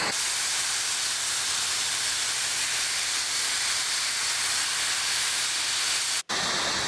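Snowmaking machines blasting snow at Ski Butternut ski area, a loud continuous broadband hiss and roar that holds steady throughout, with a brief break near the end.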